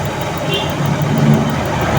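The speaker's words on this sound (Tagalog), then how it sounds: "Ngayon po mga kapatid, kita nyo, i-rev ko yan oh. I-high rev ko siya." A Toyota 2E/4AF car engine, suspected of a stuck distributor mechanical advance, runs loudly and close with a steady, dense roar, while someone talks over it.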